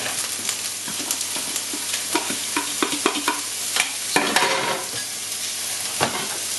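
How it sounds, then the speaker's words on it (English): Onions sizzle in a hot pan with a little leftover oil, a steady close frying hiss broken by sharp scraping and clattering stirs at irregular intervals. "Still a little bit of oil left in the pan, so I'll just add the onions."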